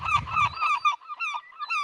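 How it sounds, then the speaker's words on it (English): Seagulls give loud, close calls in a quick series of harsh, rising cries, with a short pause before the last few. "Fucking seagulls."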